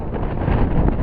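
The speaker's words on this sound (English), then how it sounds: "excuse me for the wind" Outdoors on a windy spring day in Maine, gusts buffet the microphone in a dense, continuous roaring rumble that swells slightly toward the end, with no voices over it.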